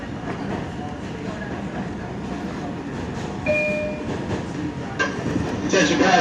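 An R142 subway train rides the 2 line in New York, bound for 148th Street from Central Park North, its wheels rumbling and clacking steadily with brief squeals and louder surges near the end.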